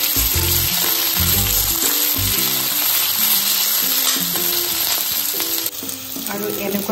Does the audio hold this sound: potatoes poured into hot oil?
yes